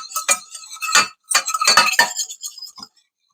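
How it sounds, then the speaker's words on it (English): Utensil stirring chopped root vegetables with garlic in a pan, a quick run of close metallic clinks and scrapes in short bursts, then silence. "I'll give that a quick stir."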